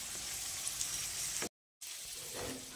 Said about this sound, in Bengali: এইভাবে উল্টে পাল্টে গোল্ডেন করে ভেজে নিতে হবে।